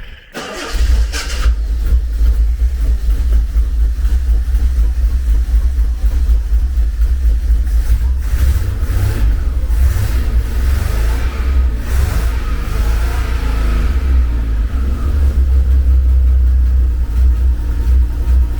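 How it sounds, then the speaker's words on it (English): A Reliant Scimitar GTE engine cranks over and catches, then settles into a loud, steady running note with a few revs rising and falling close up, with no talking over it. "start motor"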